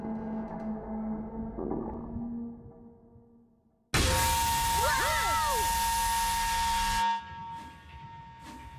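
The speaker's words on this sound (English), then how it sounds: "Sounds like the old central junction whistle." A cartoon locomotive's old junction steam whistle blows for about three seconds, loud and sustained with a wavering, multi-toned hiss, standing out sharply after quieter background sound.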